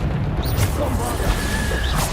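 Bombarda blasting spell cast in Hogwarts Legacy, a short booming impact with a crash and whoosh amid dense game combat noise.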